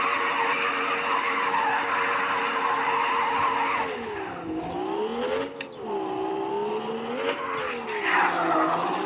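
Car skidding with tire squeal in the Drive Zone Online racing game, a loud sustained engine and screech whose pitch dips and rises in several sweeps, with no talk.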